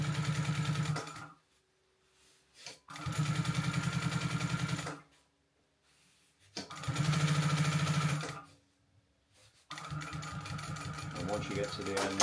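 A sewing machine runs in three steady bursts with pauses between, stitching a seam along the side of a zip on a zipped box pouch, loud and close, each run ending cleanly before the next.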